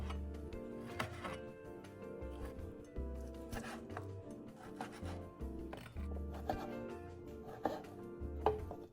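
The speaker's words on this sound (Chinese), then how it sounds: "将处理干净后猪肉切件方块状" A knife chopping pork belly into cubes on a board, steady repeated thuds in a regular rhythm, close and fairly quiet, with no voices.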